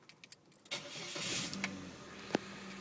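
A rebuilt engine in a 2001 Chevrolet S10 pickup cranks and starts, then settles into a steady idle, up close with a few clicks and a sharp knock near the end.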